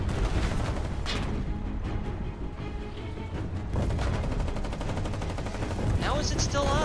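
Gunfire rattles through a chaotic Foxhole battle, with dense bursts of rifle and machine-gun shots and booms in the game's town fighting, under and between shouted voices.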